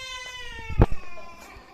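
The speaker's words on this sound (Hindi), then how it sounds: "बच्चा पार्टी ना रो रही है।" A young child cries at a village home in Pakistan, a high wavering wail with a sharper sob in the middle, close and fairly loud against a little background noise.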